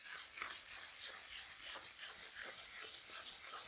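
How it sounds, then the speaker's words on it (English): Light, rhythmic sanding strokes across an oil/acrylic-primed canvas, a soft close rasp repeating about twice a second with no talk. "start to apply the ground after you've given the canvas a sand, a very light sand"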